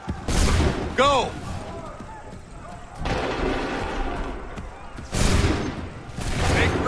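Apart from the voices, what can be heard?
musket volley gunfire in Assassin's Creed 3 video game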